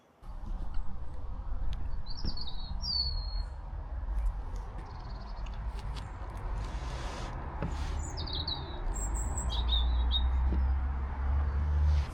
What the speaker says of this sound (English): There's a robin twittering away up there, can you hear him?